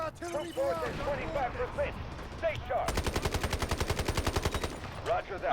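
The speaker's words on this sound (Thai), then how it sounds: "ผมเรียกอาทิลอรี่ลงแล้วนะ" Artillery strike in the Delta Force video game: a dense, rapid train of loud regular blasts hammering for several seconds, preceded and followed by someone talking.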